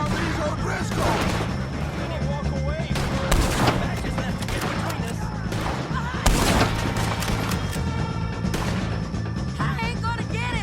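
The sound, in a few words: gunfire at the O'Driscolls in Red Dead Redemption 2 video game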